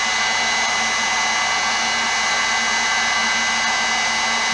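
Hot air blower running on low setting while heating the key tops of a 130-year-old piano, a steady, close, continuous whoosh of fan and airflow with a faint whine, alone and unchanging throughout.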